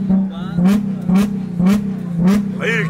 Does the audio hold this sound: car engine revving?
yes